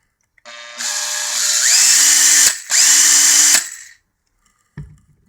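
A Makita 18V LXT BTD141 cordless impact driver whines up to speed under its variable trigger, runs about three seconds with a brief dip midway, then spins down, followed by a short clunk.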